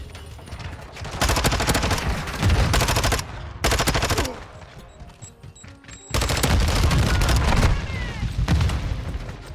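Rapid automatic gunfire in Modern Warfare 2 multiplayer, loud bursts of shots with booming impacts, broken by short pauses between volleys, under a game announcer's voice.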